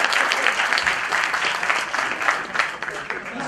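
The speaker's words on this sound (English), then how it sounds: "Let's give him an applause," An audience at a corporate high-performance team session breaks into applause, steady crowd clapping throughout with some voices mixed in.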